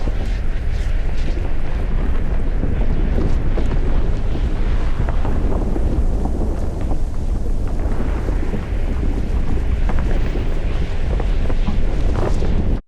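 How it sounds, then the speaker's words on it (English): Designed fiery lava ambience from God of War Ragnarök: a dense, rumbling roar with deep churning low end and crackling, hissing bursts, continuous and loud throughout. "placed icy sounds on this side and fiery lava sounds on that side"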